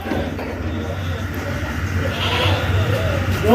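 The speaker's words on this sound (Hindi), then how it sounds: "ये एक बकरी है मेरे पास राजनपुरी छः दांत की है" A Rajanpuri goat with six teeth bleats at a livestock market among a low background murmur of voices and activity, the cry rising briefly near the end.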